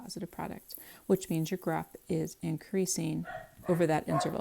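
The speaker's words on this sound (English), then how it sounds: "Sorry about the dogs." Dogs barking in the background beneath a continuous math lecture voice, with several short barks scattered through the speech at moderate distance.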